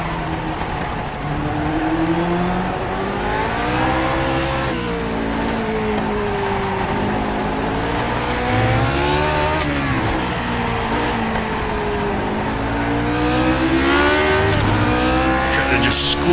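A Lotus 49 race car at Okayama in the iRacing game revs hard on the throttle, its engine pitch sweeping up through repeated gear changes with a tyre squeal near the end, loud and constant.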